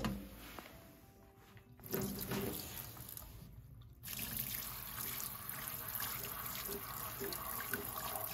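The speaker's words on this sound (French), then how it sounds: "Et puis maintenant, je vais commencer à rincer." Tap water runs steadily into a sink while plant-dyed fabric is rinsed, a continuous splashing flow that grows louder after a brief pause, with no voices.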